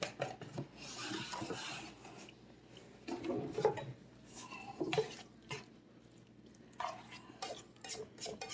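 A spoon scrapes and stirs through a thick mixture of cauliflower tot casserole ingredients in a bowl, in slow irregular strokes at close range, with occasional soft clinks against the dish.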